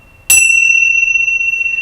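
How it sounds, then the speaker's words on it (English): Tingsha chimes struck once, a sharp metallic strike ringing into a long, bright, steady sustain close up, with no talk. "You can use these lovely chimes,"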